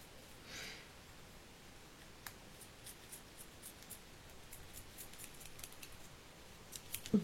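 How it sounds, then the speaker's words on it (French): Faint scissors snip card for a handmade greeting card repeatedly, with a series of short, crisp cuts spaced irregularly over quiet background, near and soft. "Mes ciseaux, ils ont du mal à couper."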